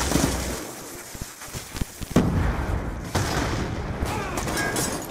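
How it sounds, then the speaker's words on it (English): A sniper rifle shot in an online shooter game cracks out sharply at close range, with a second sharp report a second later, over a dense layer of game noise and scattered impacts. "I just got sniped again"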